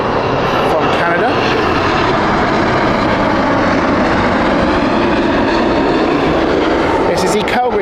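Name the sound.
WestJet Boeing 787-9 jet aircraft at Heathrow Airport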